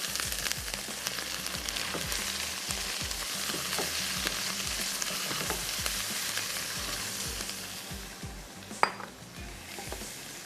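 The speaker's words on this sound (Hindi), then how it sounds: "थोड़ा सा चिकन को फ्राई होने देते हैं।" Chicken fries in a pan for bunny chow, a steady close sizzle with frequent stirring scrapes and spoon knocks against the pan, and one sharper clink near the end.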